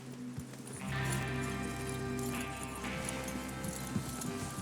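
Several horses gallop in the Red Dead Redemption 2 video game, with rapid rhythmic hoofbeats clip-clopping close by, steady and continuous, with occasional snorts over a low ambient bed.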